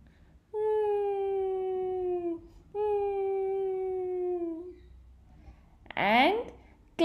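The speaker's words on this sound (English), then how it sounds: "And crying." Two long, sustained wailing cries in a child's storybook setting, each holding a steady falling pitch for about two seconds, clear and close, followed by a brief squeaky vocal burst.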